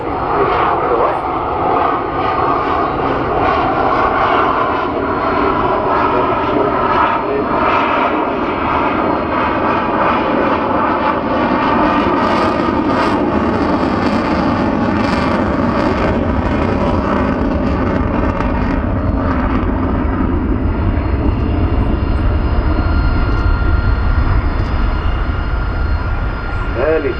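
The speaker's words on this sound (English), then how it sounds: "It will come afterburners, turbo straight into the right." A Boeing Super Hornet jet at an airshow blasts past with afterburners lit, a loud, continuous roaring thrust that holds throughout as a commentator talks over it.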